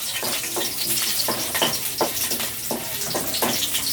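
Chopped onion and garlic sizzling and frying in hot oil in a pan, stirred with a few rhythmic scraping strokes over a steady crackle, close and fairly loud with no talk.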